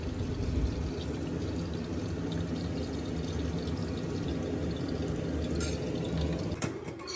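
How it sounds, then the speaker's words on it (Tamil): Oil poured into a kadai for frying Chicken 65, heard as a continuous close pour and gurgle lasting several seconds, with a couple of brief metallic clinks near the end and no talking. "ஒரு கடாயில் கொஞ்சம் எண்ணெய் ஊற்றிட்டு சிக்கன் 65 போட்டு எடுத்துக்கலாம்"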